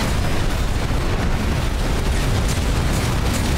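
Bazooka explosions in the mech combat game Armored Core VI, a dense, continuous roar of blasts and booming rumble, loud and unbroken throughout.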